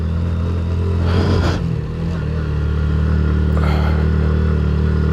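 A motorcycle grinds in first gear up a rough, gravel-strewn mountain road through tea gardens, its engine droning steadily up close with clattering bumps and a couple of brief rattling surges.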